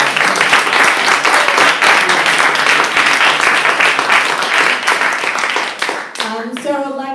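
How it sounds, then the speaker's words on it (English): Dense audience applause for a panel at a tech event, loud and sustained for about six seconds before fading, with a voice speaking as the clapping dies away. "please give a big applause for the panel to be here"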